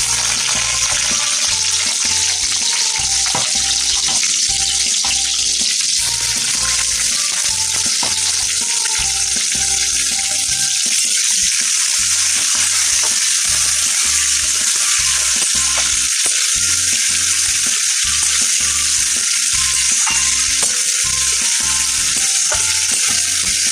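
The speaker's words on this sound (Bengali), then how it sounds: "এবার আমি এতে পেঁয়াজ দিয়ে দিচ্ছি।" Onions fry in oil with two dried red chillies, a loud, dense, unbroken crackling sizzle with a low hum underneath throughout.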